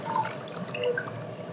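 Cluster beans being washed in water in a home kitchen, with soft splashing and a few scattered drips and trickles, quiet and close, with no talk.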